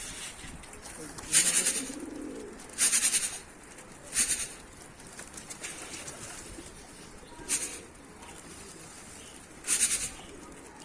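Turkish tumbler pigeons of the dönek and dolapçı breeds coo softly at close range, mixed with several short, bright high chirps at irregular intervals, while a person talks intermittently nearby.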